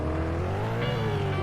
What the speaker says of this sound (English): Bro was accelerating too much.